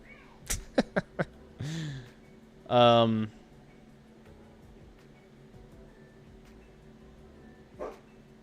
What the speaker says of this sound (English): My dog's barking at the neighbor that's pulling into the driveway.